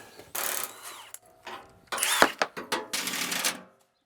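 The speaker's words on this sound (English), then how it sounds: "we're going to go ahead and get these bolts out of here" Steel bolts being worked loose from the tongue of a shed-moving trailer with a power tool, giving short loud bursts of rattling, clattering metal in irregular spurts, close by and with no talk.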